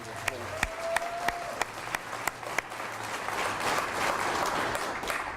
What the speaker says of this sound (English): Big hand clap to all the first responders.